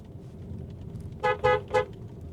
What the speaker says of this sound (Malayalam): അതുപോലെ ഹോണിൻ്റെ കാര്യം പറയാനാണെങ്കിലും കിടു ഹോണാണ്